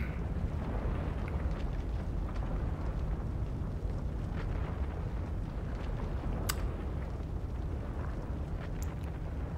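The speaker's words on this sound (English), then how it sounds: "An earthquake is occurring." A continuous deep rumble from an earthquake disaster in the Cities: Skylines city-building game, steady and loud across the whole stretch with a few faint higher crackles on top.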